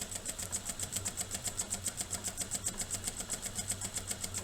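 A home sewing machine back stitches a basted zippered pouch with the presser foot against the zipper teeth, running at an even rhythmic clatter of regular needle strokes throughout, close and steady.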